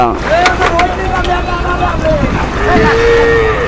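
Red cattle are unloaded from a boat on the Jamuna River for a market at Aricha, with a few drawn-out lowing calls rising over a dense background of voices and riverside bustle.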